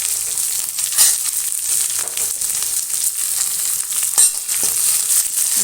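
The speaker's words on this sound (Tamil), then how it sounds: "வெங்காயம் போட்டுக்கிறேன்." Onions fry in a pan with crushed garlic and curry leaves, a close, steady hissing sizzle punctuated by brief louder crackles and stirring scrapes, with no voices.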